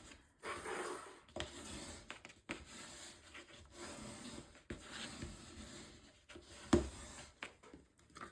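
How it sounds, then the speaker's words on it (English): Paper being rubbed and pressed flat with a bone folder on a mini album cover, giving a steady dry scraping and rubbing texture in close, quiet strokes with a sharper tap near the end. "I will use my bone folder to adhere this down."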